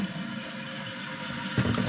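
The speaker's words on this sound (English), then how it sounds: "We have a Kohler toilet that is just continuing to run" A Kohler toilet runs without stopping because its canister seal leaks, giving a steady, close hiss of flowing water that swells louder and brighter near the end.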